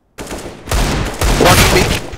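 Gunfire in the video game CS:GO: after a moment of silence, bursts of rapid shots ring out loud and close, with a short lull between volleys.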